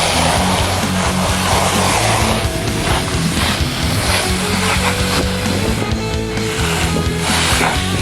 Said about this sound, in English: We're going to rinse them off now with the hose.